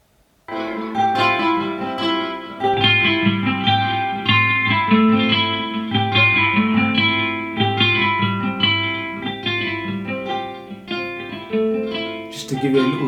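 A guitar part run through a CLA Guitars distortion plugin in FL Studio plays a steady, harmonically rich melodic line with a driven, saturated edge, loud and continuous after a brief silent start.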